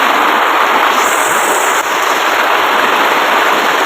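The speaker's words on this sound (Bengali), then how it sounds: "বিশাল পরিমাণে ঝড় বৃষ্টি হচ্ছে" Heavy storm rain pours down as a loud, steady roar that stays dense and unbroken throughout, with no voices.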